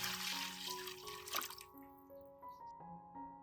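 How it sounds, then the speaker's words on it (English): Boiled water pours into a basin in a short, close splashing stream that stops after a second or two, leaving only background music playing on. "Pour boiled water into a basin."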